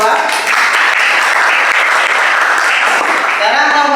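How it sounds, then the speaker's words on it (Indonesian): Students in a classroom clap for a group that has just finished presenting, a dense, steady burst of applause lasting a few seconds, with a voice breaking in near the end. "Kita beri tepuk tangan kelompok 2."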